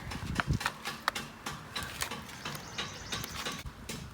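A new speedometer cable is threaded onto a Honda Hawk 250 motorcycle, with close, irregular small clicks, ticks and ratcheting taps, and no talking.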